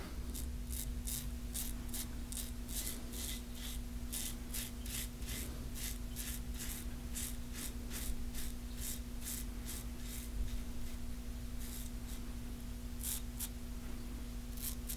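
A Parker 91R safety razor scrapes down the neck in close, steady strokes, giving a rhythmic, crisp rasping over a faint constant hum, with no talking.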